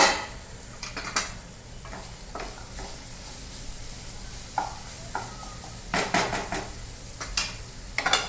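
A spoon stirs chopped tender chickpea leaf bhaji in a pan, with soft sizzling underneath and several sharp scraping clinks of utensil on metal at irregular moments, close and fairly quiet.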